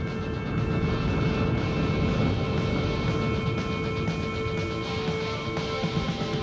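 An F-15 fighter jet flies a maximum-performance climb out over water, its engine roar a steady, loud, dense wash that holds even throughout, with no talk.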